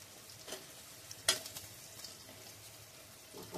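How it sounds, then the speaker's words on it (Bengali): Potatoes are fried in a spice masala, with quiet sizzling and occasional spatula scrapes and taps against the pan, including one sharper clack, all fairly faint and close. "এবারে আলু দিয়ে আলুটা একটু কষিয়ে নেব মশলার ভিতরে দিয়ে"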